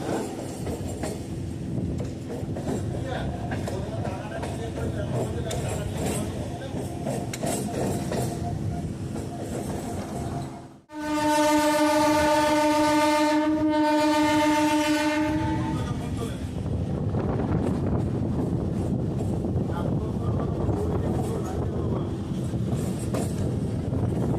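A local passenger train rumbles along the tracks close by, loud and continuous, with a long horn blast partway through before the rumbling carries on.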